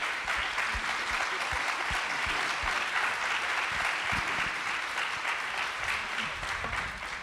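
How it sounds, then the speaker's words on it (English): An audience applauds the panelists at the close of a culture-of-innovation session, steady dense clapping sustained throughout with no one speaking over it. "little round of applause"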